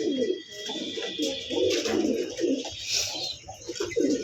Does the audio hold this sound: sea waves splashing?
no